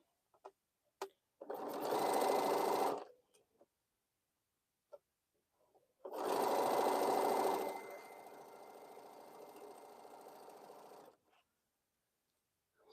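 A sewing machine stitching a Crown Royal quilt whirs in two close runs, the first short, the second longer and easing to a quieter hum, separated by silence and small clicks.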